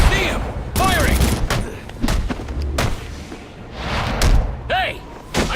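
Gunfire in Batman Arkham Origins, a handful of sharp, loud shots and heavy thuds spaced irregularly across a busy game scene, with voices talking over parts of it.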